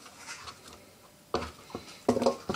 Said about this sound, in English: I think I'm cutting this too finely.